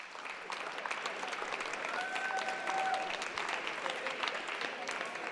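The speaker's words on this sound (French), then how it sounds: "Là, on applaudit les finalistes." Steady applause from a crowd at a junior boys' volleyball championship fills the whole stretch, dense and even, with a brief whistle-like tone partway through.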